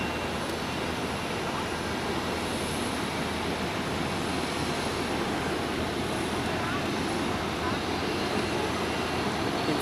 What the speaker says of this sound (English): the Emirates A380 is now landing